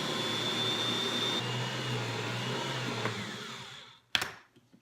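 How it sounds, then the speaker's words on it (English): A kitchen machine kneading bread dough for dinner rolls, buns or cinnamon rolls: a steady, loud motor whir that runs evenly, then cuts off, followed by a couple of sharp clunks and rattles. "Now, you put the lid on, and you turn it on, just let it knead"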